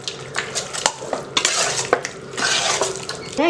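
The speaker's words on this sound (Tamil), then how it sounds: "இப்போ இதில் ஊற்றிடலாம். இதை நல்லா மிக்ஸ் பண்ணி விட்டுறலாம்." Chicken pieces are stirred and mixed in a bowl of milk marinade, giving wet squelching and scraping strokes with a few utensil clinks against the dish, close and continuous without talk.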